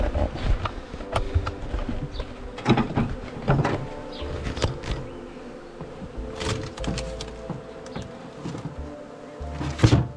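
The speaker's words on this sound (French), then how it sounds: "On va essayer de regarder un petit peu la taille de l'essaim." A swarm of honeybees at a hive drones with a continuous, fairly loud buzz, overlaid by scattered sharp knocks and clicks from nearby handling, with no talking.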